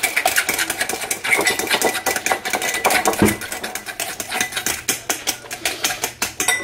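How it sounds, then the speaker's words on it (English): Ingredients with vanilla being mixed in a bowl: fast, continuous clattering and tapping of a utensil against the bowl, close and fairly loud, with a rapid irregular rhythm throughout. "Then we're going to mix again"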